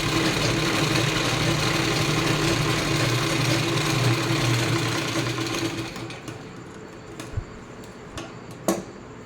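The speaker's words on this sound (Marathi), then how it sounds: "दाब टीप टाकताना आपण हे जे जोडलेलं असतं ना त्याबरोबर मधोमध आपल्याला टीप टाकून घ्यायची असते" A sewing machine stitches fabric in a rapid, steady mechanical whir for several seconds, then stops and gives way to a few faint clicks and handling taps of the cloth.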